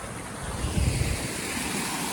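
Rainwater backs up and overflows across a flooded paddy field, giving a continuous rushing, splashing wash of water. It holds steady and close throughout, with wind-like noise mixed in and a brief churning swell partway through.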